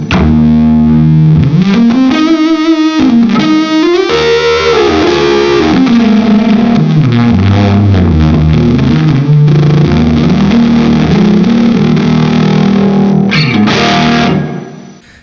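Electric guitar played through a Tonebender-family fuzz pedal, run with a low-output single-coil guitar into a Marshall-style amp, ringing out as loud, thick, sustained distorted chords with swelling low end for about fourteen seconds before fading.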